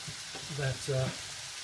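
Salmon sizzles in a pan while being cooked for a smoked salmon, mushroom and cream pasta sauce, giving a steady, close frying hiss with a few brief tonal squeaks.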